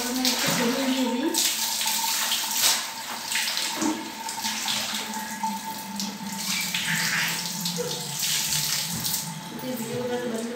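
A tap runs hard into a bucket, a loud, continuous gush of splashing water that fills the whole stretch. Faint voices sound in the background.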